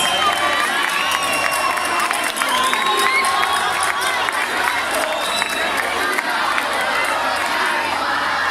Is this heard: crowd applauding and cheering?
yes